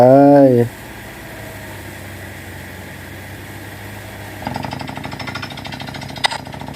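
A percussion drill head boring a 5-inch groundwater well for farm use: a brief loud engine whine drops to a low hum, then rapid rhythmic pounding kicks in close by partway through.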